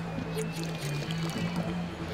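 Watering flowers in the Lego City Undercover video game gives a soft trickle of pouring water, faint beneath game music and a talking voice.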